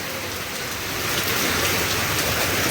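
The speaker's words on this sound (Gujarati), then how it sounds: "ચલો ગાઈસ વરસાદ ફૂલ ધમાધમ ચાલુ" Heavy rain pours down in a dense, unbroken hiss that swells slightly louder partway through. No voices are heard.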